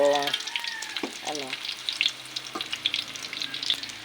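Pork and beans cook in a pan with sautéed pork, giving a lively crackling sizzle with quick popping bursts; a brief tonal sound comes at the very start.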